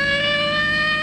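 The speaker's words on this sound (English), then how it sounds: "Dioxide turned on a siren, put on a policeman's uniform, and forced Barnaby to stop." A steady, loud police siren rings out in a classic cartoon set at the Indianapolis auto race, a sustained wailing tone held without break and heard alone.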